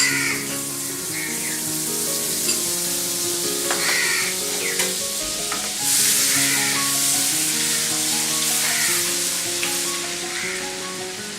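Oil and two spoons of butter sizzle and fry in a pan for butter chicken gravy, a steady close hiss, while crows caw repeatedly in the background.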